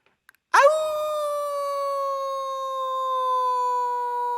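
A human voice imitates a dog howling: one long, loud, steady tonal howl that swoops up sharply, then holds its pitch and slowly fades, heard alone after a couple of faint clicks.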